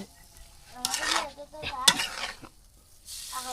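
Spice masala is stirred in a pan over a village clay stove, with intermittent scraping and sizzling bursts, metallic clinks of the spoon against the pan, and quieter gaps between strokes.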